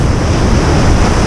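Sea surf breaking along a shore where bass are being lure-fished, a loud, steady wash of waves with wind buffeting the microphone, no voices.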